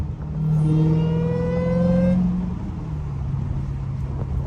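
A Dodge Hellcat drives along a road with a deep engine drone that rises in pitch as it accelerates, then settles into a steady lower rumble while cruising, heard from inside the car.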